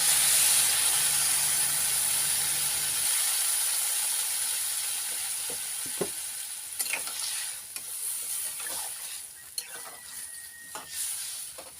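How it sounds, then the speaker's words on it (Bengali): Water splashes into a hot pan of fried potato, green banana and drumstick vegetables for a fish curry. A loud burst of hissing sizzle fades into quieter bubbling, with faint scattered stirring clicks. "এবার দিয়ে দেব জল।"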